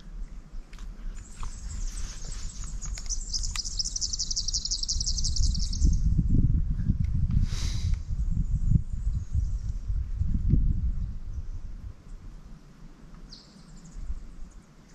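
Small birds, including silvereyes, twitter in high, rapid bursts in a riverside forest, the calls bunching early and then briefly returning, with a low rumble and soft knocking beneath.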